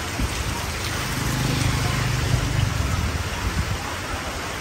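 Heavy rain pours over open countryside in rural Vietnam during a storm, making a dense, steady hiss that fills the whole clip with no pauses.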